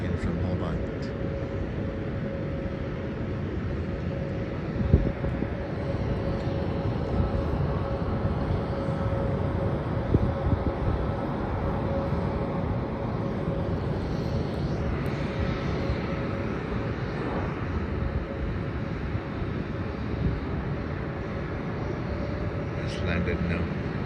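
A Jetstar Airbus A320 landing at Melbourne on a flight from Hobart: a broad, steady jet roar and rumble heard from a distance, with a faint sustained tone and a couple of soft thumps.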